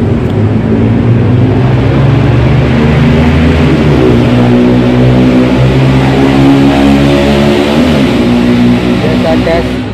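Touring and racing motorbikes ride at night around Alun-Alun Sidoarjo, their engines droning and revving steadily nearby as a continuous loud rumble, with a voice talking over them.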